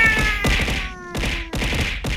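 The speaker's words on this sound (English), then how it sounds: "Meow." A cat meowing in a series of loud, close, drawn-out meows with short pauses between them, accompanied by a few thumps.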